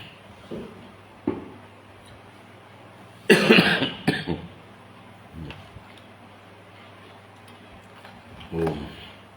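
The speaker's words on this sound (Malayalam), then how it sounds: "ചുമ നല്ലോണം മാറിയിട്ടൊന്നുമില്ല" A cough in a quiet indoor setting: one loud, harsh burst in the middle, a few softer coughs before it and another near the end, with faint talk around them.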